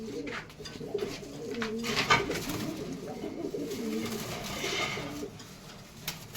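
Pigeons cooing steadily close by, soft repeated rolling coos layered over one another with a few brief chirps.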